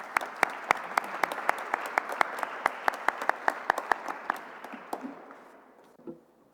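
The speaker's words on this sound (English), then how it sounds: "Please give yourself a round of applause" Applause from a conference audience at a ministerial panel in Prague: a room full of people clapping steadily for about five seconds, then thinning out and fading to a few last claps.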